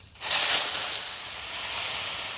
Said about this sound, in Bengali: তেলের মধ্যে অল্প একটু লবণ ছিটিয়ে দিয়ে চিংড়ি মাছগুলো ভেজে নেব